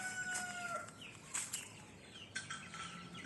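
Soft peeping and clucking from little chicks and their mother hen roaming outdoors, with brief overlapping calls and a muffled flutter.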